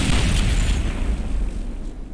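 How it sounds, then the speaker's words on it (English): A grenade shot bursting in the fast first-person shooter Ultrakill: a loud, sustained booming blast with dense low rumble that slowly fades over about two seconds, heard alone. "a secondary attack that shoots a grenade. And you can shoot that grenade"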